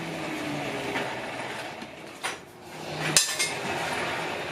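Hot old blacksmith tongs are hammered on an anvil, giving a few sharp metallic strikes with ringing, spaced irregularly over a low background rumble.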